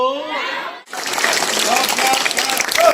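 A voice speaks briefly, then an audience at a Bharat Scouts and Guides foundation day celebration breaks into loud, dense applause that swells and continues, with faint voices over it.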